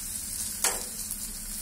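Fenugreek sizzles in hot oil for a pepper chilli pickle, a steady hissing fry with one brief sharp crackle partway through.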